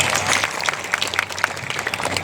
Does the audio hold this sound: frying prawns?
no